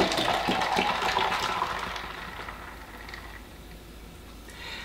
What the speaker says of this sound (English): We're gonna add our commercial kombucha here.